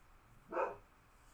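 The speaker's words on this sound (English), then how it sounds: "sorry, my dog is just barking." A single short bark from a female dog somewhere off in the house, faint and distant, rising out of quiet room tone and fading within a moment.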